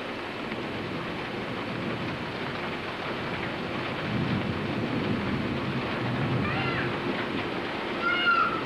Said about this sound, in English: There's a good lightning storm right over there.